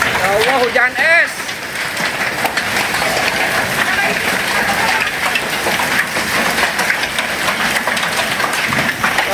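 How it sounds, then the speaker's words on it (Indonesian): A hailstorm with heavy rain and strong wind pounds down in Sukabumi, Indonesia, a loud, dense, continuous roar of hammering drops and ice throughout, with a person briefly exclaiming near the start. "Allah, hujan es."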